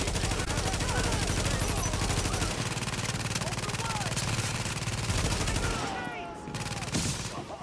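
An automated turret fires on enemies in a PvP survival video game, with rapid continuous bursts of gunfire that stay dense and loud, then thin out toward the end.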